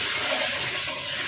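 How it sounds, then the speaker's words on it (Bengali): Water pours into a pot of cooking goat meat, a close, continuous splashing rush. "এখন আমি একটু জল দিয়ে দেব।"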